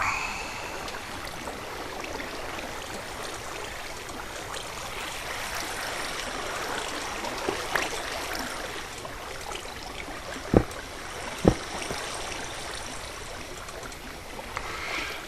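Flowing water in a Minecraft TerraFirmaCraft modpack, a steady trickling stream hiss with two brief clicks near the end and no talk.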